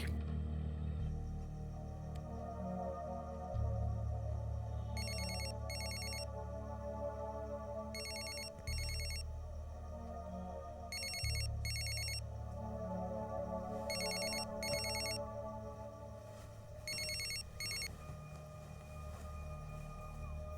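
Telephone ringing in a Telugu film scene, electronic ring bursts repeating about every three seconds over a steady low music bed, with no talk.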